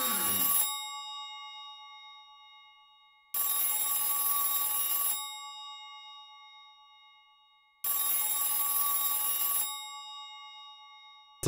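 A payphone rings from inside a locker in the survival horror game Silent Hill 3, with three long, loud electronic bursts separated by silent gaps, each burst fading slightly before it stops, and no talking.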